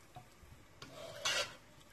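Tandoori-style chicken and rice is stirred in a cocotte after water is added, giving a quiet scraping and rubbing with one louder, brief scrape near the end, over faint low simmering.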